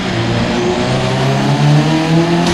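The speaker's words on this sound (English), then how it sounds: "just lighting up the wheels. Yep. Just slipping everywhere, dude." A car's engine roars loud and steady as its tyres spin and slip, tonal whine of revving and wheelspin sustained close up throughout.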